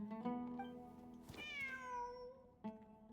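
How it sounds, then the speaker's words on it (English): A video game cat gives a single drawn-out meow with a falling pitch, heard clearly over quiet background music and followed by a short chirp at the end. "there it is! The cat!"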